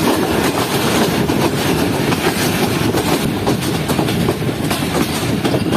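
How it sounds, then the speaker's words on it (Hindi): A train on the Shah Hussain Express route rolls over diverting tracks with a loud, continuous rumble and rhythmic clickety-clack of wheels, heard from inside the moving train with no voices. "ट्रेन आगे डाइवर्ट हो रही है डाइवर्टिंग ट्रैक्स पर"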